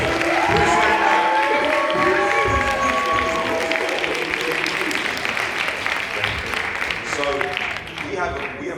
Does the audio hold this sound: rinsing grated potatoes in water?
no